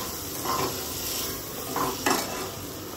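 A spoon scrapes and clinks against a pan while food is stirred after a pinch of asafoetida goes in, with a few sharper metallic taps over a soft background hiss.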